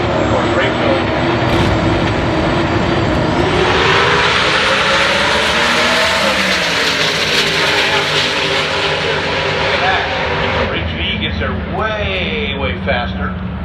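A Boeing 747 passes overhead, its loud jet roar swelling and then slowly fading, with faint voices underneath.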